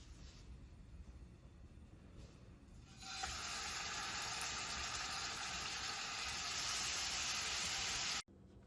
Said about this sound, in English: I'm just going to sear the steaks for probably about 2 minutes on each side